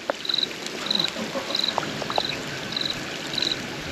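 A rain-swollen, flooded creek rushes past in a continuous broadband hiss, with short, high chirps repeating faintly on top at regular intervals.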